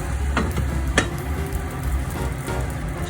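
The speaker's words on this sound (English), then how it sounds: "Just move the skillet forward and upward quickly and catch the pancake." An egg pancake sizzles steadily in a skillet, with two sharp clattering knocks as it is flipped and caught, the frying hiss continuing close and alone.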